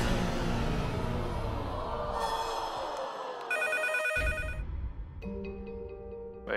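Telephone ringing on a Chinese dating game show stage, an electronic ringtone with repeated tonal bursts rising out of studio background noise, fairly clear and close.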